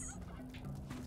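A turkey gobbles in a video game, one brief rapid warbling burst standing out clearly against steady background music.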